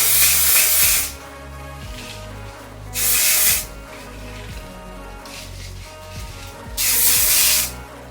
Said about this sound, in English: I'm gonna do the hairspray again on this side